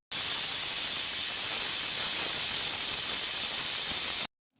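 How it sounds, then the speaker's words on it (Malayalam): A pressure cooker cooking beef releases a loud, steady hiss of escaping steam that runs unbroken for about four seconds, then cuts off abruptly. "അങ്ങനെ ഒരു 7 വിസിൽ വരെ ഞാൻ ഈ ബീഫൊന്ന് വേവിച്ചെടുത്തിട്ടുണ്ട് കേട്ടോ"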